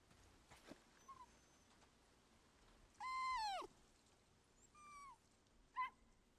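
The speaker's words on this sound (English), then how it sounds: "I can hear him. I can hear the dog." Whimpering dog in the video game Days Gone: faint, rising whines come in several short cries, with one longer, louder whine near the middle and a brief yelp toward the end, set over quiet game ambience.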